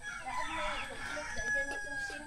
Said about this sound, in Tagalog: Meron na tayong 2 chicken.